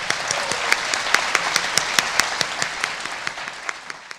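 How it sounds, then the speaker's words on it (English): An audience at a celebration held at a spiritual center breaks into loud, steady applause, dense clapping with crisp individual claps, fading slightly toward the end. "Let's give them all a round of applause."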